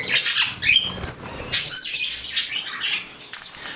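A pet bird flaps its wings in quick, close bursts while flying around an indoor bird room, with sharp chirps and squawks from birds scattered throughout.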